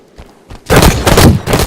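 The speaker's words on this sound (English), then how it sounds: "put four magnum shots into me" Magnum pistol shots fired in Halo 5 crack out in a loud, close cluster of several rapid reports, preceded by a couple of faint thumps.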